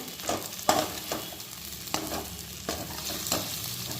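Pointed gourd and potato curry stirred with red chilli and coriander-cumin powders, a spoon scraping the pan in several distinct strokes over a soft, steady sizzle, close and clear with no talking.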